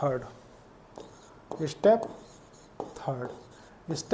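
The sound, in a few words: writing the number 1 on a board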